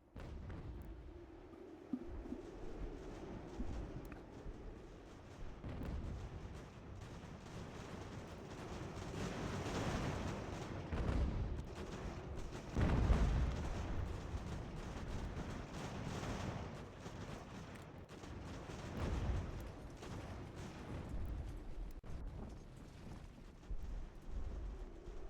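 Cannons fire on a battlefield in the video game Ultimate General: American Revolution, with repeated dull booms rising out of a continuous low rumble, one heavier blast near the middle, and no talking.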